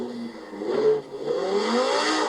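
A V10 car drifting in the video game Forza Horizon 4, its engine revving in rising and falling sweeps, steady and fairly close, with no voices.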